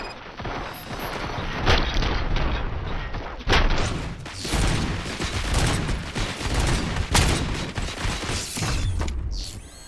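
Sustained gunfire in the Robocop Rogue City video game, loud and dense with rapid overlapping shots, mechanical clatter and sharp bursts over a constant roar.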